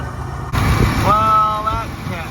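Engine of a crusty 1976 Jeep J10 pickup running after sitting 13 years, a steady close rumble that swells after a sharp start with a whining tone on top, and a voice speaking over it.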